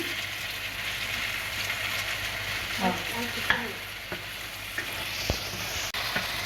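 Jujube pickle fries in a pan with spices and panch phoron, making a loud, steady sizzle throughout, with a few soft scrapes and taps from stirring.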